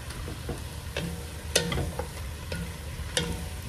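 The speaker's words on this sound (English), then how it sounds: "So we want to make sure we mix all that together." A red beans and sausage mixture being stirred in a pot, soft scraping and sloshing strokes repeating at an even pace over a low simmering sizzle, close and fairly quiet, no voices.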